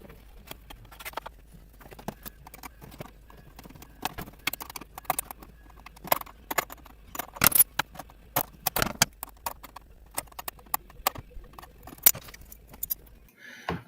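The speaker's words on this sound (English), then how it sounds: "Now I pull off the rear metal running hardware" Metal running hardware is pulled off a vintage 1990s Great Planes Wildcat RC boat, giving scattered close clinks, taps and rattles in irregular bursts over near silence.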